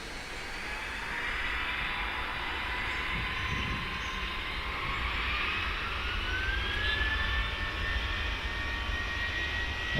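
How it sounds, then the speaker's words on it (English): An airliner spooling up and accelerating down the runway for takeoff in the Tower! Simulator 3 video game, a steady low rumble with a rising whine of jet engines that holds throughout. "the noises will kick in and the aircraft will start to cane it down the runway"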